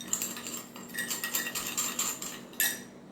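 Sugar is stirred in a bowl for a homemade anti-aging facial, giving a run of gritty scraping and light clinking taps that come close up and fairly quiet in uneven bursts.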